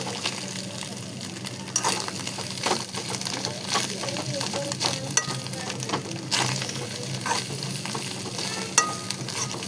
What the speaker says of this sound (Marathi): मस्त अशी सारखे असे मिक्स करत राहायचे म्हणजे अंडे उडतात ना.